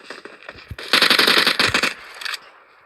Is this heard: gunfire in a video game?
yes